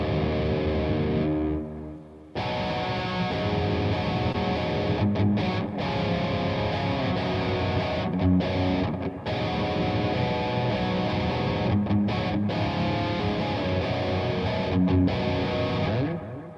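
A distorted electric guitar plays a heavy, chugging riff in a metal style, loud and continuous, with brief stops and choppy breaks between phrases, and no voices over it.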